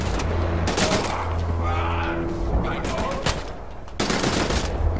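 Gunfire in the Wolfenstein video game, a dense run of rapid shots and bursts with a brief lull near the end before firing resumes, loud and close, with a player talking over it.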